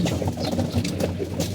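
Racing pigeons coo steadily and close up while feeding, several low throaty calls overlapping in a continuous murmur with no talk.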